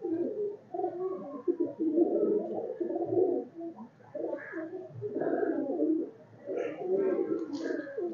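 Old pigeons kept by a breeder coo steadily and close by in a low, rolling drone that continues throughout, with a few brief higher chirps, as someone talks over them.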